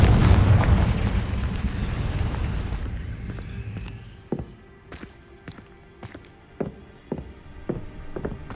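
A Confringo blasting spell explodes in Hogwarts Legacy with a heavy, roaring boom that fades over several seconds, then gives way to scattered footsteps and light thuds.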